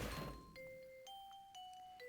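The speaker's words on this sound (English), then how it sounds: "Must be a loud-ass bell to wake him up from all the way up there." A bell rings in the video game Ghost Trick, a few clear, quiet chiming tones struck in sequence after a soft thump, each ringing on briefly.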